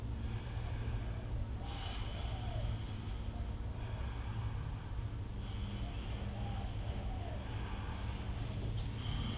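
Deep, slow breathing during a yoga fertility class, soft close inhales and exhales with a faint nasal snort-like quality over a low steady background hum.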